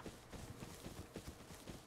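Horse hooves clip-clopping in the Rust video game, a quick steady run of faint, evenly spaced thuds with no voices.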